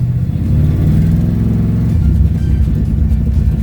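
A car engine fitted with a Holley carburetor, running and revving close up with a steady low rumbling drone that rises slightly in pitch toward the end, no talking.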